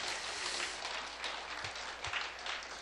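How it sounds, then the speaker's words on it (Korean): A church congregation clapping together in a sustained, even patter of applause at moderate distance, with no voices over it. "다시 한번 격려의 박수 부탁드립니다"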